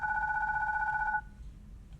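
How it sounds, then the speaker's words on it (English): A telephone bell rings in a single steady electronic trill that lasts about a second and then cuts off, leaving quiet room tone. No one speaks. "my phone rang"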